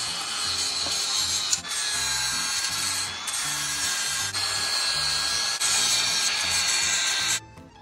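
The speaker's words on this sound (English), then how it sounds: "If I get the little flappy disc of God on that," A flap disc on an angle grinder grinding down a weld on a Chinese heater, a loud sustained abrasive whine with rhythmic pulsing strokes and brief breaks before the tool stops near the end.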